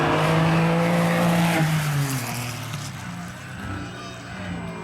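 A Porsche rally car on a stage of the Otago Classic Rally at the Anzac Avenue overbridge, roaring loudly past with a falling engine pitch, then fading into the distance.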